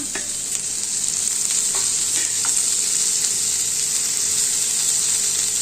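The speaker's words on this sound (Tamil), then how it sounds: "தக்காளியை போட்டு அப்படி வதக்கிட்டே இருங்க கொஞ்சம் நேரம்" Tomatoes and dried red chillies sautéing in a pan for kara chutney give a steady, loud sizzle with occasional stirring scrapes, close up and without voices.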